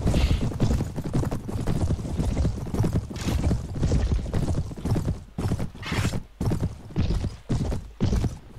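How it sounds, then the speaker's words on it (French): Galloping horse hooves in Mount and Blade Warband, a dense, fast clip-clop rhythm running throughout and fairly loud, with the din of a large battle behind it. "Là vous voyez j'ai mon nouveau cheval."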